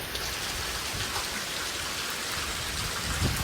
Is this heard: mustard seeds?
no